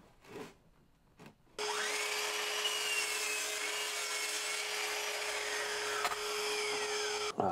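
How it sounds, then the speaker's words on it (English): A mitre saw spins up and cuts through 12mm plywood, a loud sustained whining buzz lasting several seconds after a couple of brief knocks, ending abruptly as the blade stops. "So now I think I can actually use the mitre saw to get a bit cut down."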